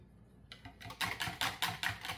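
After a quiet start, a whisk beats rapidly against a bowl of crème brûlée custard mixture, producing close, rhythmic clicking strokes with no talking.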